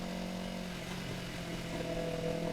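A Yamaha R3 motorcycle riding through city streets in Curitiba gives a steady engine drone with a fixed pitch, close and continuous, with traffic noise and no talking.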